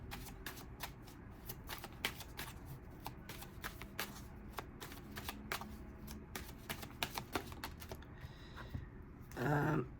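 Tarot cards are shuffled to draw a clarifier, giving a fast run of crisp, close riffling taps and flicks that ends in a brief louder shuffle burst.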